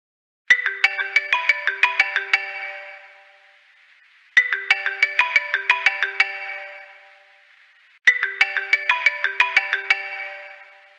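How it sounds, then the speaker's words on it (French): A mobile phone ringtone plays a bright chiming melody three times, each short phrase of rapid plucked notes separated by brief silences, clear and alone. "Celui qui ne sait pas éteindre son téléphone."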